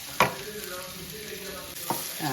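Curry masala paste fries lightly in a pan for a squid curry, a faint, even sizzle with two brief scraping clacks as it is stirred.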